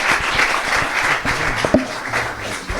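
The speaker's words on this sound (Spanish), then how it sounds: "Un aplauso para Denise, por favor." An audience at a startup pitch session on AI, fintech and blockchain gives a short burst of dense, steady applause, with a voice faintly present.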